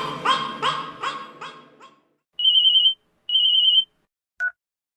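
Telephone ringtone in a comedy scene, two sustained electronic tones with a short gap between them and a brief final blip, clear and alone after a dog-like barking sound.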